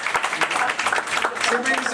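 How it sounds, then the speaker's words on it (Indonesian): Church congregation applauding during a sermon, a burst of many close, sharp handclaps in a quick, uneven rhythm that stays lively and fairly loud for a couple of seconds. "Berikan tepuk tangannya."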